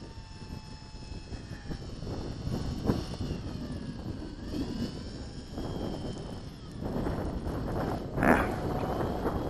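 A small UMX Timber RC airplane flies in gusty wind, its thin electric propeller whine rising and fading as it passes, over steady wind noise with swells near the end.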